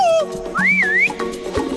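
Cartoon whistle from Munki and Trunk, a loud, near, sliding tone that dips, then rises and wavers in a second blow, over background music.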